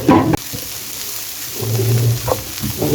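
Chopped onions, about 200 grams, sizzle in a hot pan with roasted cumin for a keema samosa filling, a steady hiss of frying broken by brief scraping stirs, fairly close and loud.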